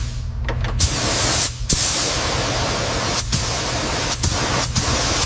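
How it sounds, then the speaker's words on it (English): A spray gun lays down a first coat of primer over a welded boiler patch on a rusted model locomotive, giving a steady close hiss broken by a few brief pauses between passes. "we're laying down the first coat of primer on the boiler patch now, making sure we get full coverage over that weld seam"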